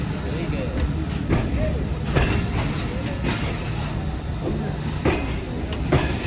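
The Hazara Express rumbles along its rails with a dense, continuous roar and faint rhythmic clacks heard from inside the carriage, while a voice talks over it.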